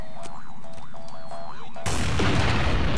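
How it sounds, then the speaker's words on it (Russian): Postal 2 game audio: a warbling electronic tone with thumps gives way to a sudden loud burst of explosions, a dense roaring blast that fills the second half and stays loud to the end. "ой, как все взрывается."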